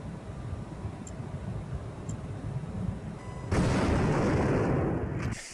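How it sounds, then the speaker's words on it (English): A loud explosion bursts in at the midpoint of a Command & Conquer: Tiberian Dawn cutscene, a rumbling low wash that stays steady and heavy until the end, following a quieter stretch of ticking, crackling background noise. "And that explosion."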